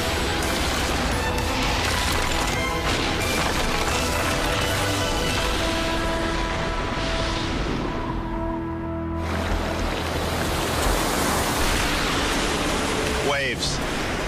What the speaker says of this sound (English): Waves, they're beautiful, but they're also powerful, and they can be deadly.